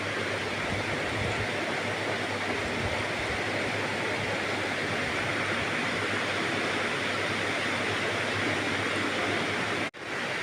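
Ghee added to hot white oil in a pan sizzles and hisses steadily and loudly, a dense continuous crackle with a low hum beneath, cutting off briefly near the end.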